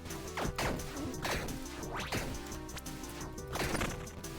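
Repeated crashing smashes ring out as objects shatter in the video game Tiny Rogues, several sharp breaking hits spaced irregularly over a few seconds, moderately loud with no talking.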